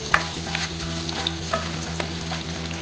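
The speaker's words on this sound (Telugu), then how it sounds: "ఇప్పుడు ఈ చిన్న ఉల్లిపాయలు వేద్దాము. వేసి ఒక చిటికెడు సాల్ట్ జల్లి అలా కలుపుతూ ఉంటే" Small onions frying in a pot with a pinch of salt while being stirred, a steady close sizzle broken by light scraping clicks from the spoon.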